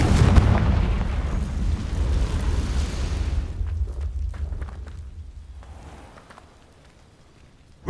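A Confringo fire spell bursts in the Hogwarts Legacy video game, a loud booming explosion with a rumbling roar that rolls on for several seconds before fading to a low crackling tail.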